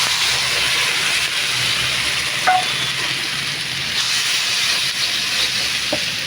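Spice paste hitting frying onions in a pan for an okra and potato fry, giving a loud, constant sizzle and hiss with a couple of faint utensil taps, no talk.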